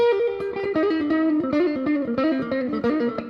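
An overdriven electric guitar through a Bugera Infinium 5-watt amp with an 8-inch speaker, drive cranked up, plays a short riff of picked notes, gritty and distorted, loud and close with no voices.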